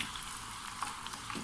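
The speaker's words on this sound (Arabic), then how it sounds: "وغادي نهزهم بحال هكذا وغنطلقهم في الغراف ديالي اللي راه كيسخن" Ghoraf dough sizzles in hot frying oil, a faint, steady crackling hiss with light popping that continues evenly throughout.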